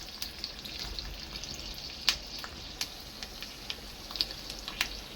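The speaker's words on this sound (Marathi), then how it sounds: "तेल गरम झालं की त्यामध्ये घालायचे आहे 2-3 लसूणच्या पाकळ्या आणि वाळलेल्या मिरच्या आणि छान तडका तळून घेऊ" Garlic cloves and dried chillies fry in hot oil for a tadka, giving a steady soft sizzle with scattered small pops and crackles, fairly quiet and close, with no voices.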